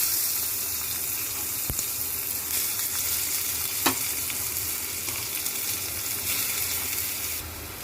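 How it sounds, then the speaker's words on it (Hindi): Chopped onion, ginger and green chilli frying in a pan, a soft continuous sizzle with a few faint clicks from stirring, no voices over it. "अब इनको थोड़ा सा हम सॉफ्ट करने के लिए इस तरह से फ्राई कर लेंगे"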